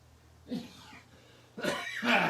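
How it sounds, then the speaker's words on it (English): A couple of close, throaty coughs separated by a short pause, the second burst louder and rougher, with no talking. "Excuse me, but it's a wet cough."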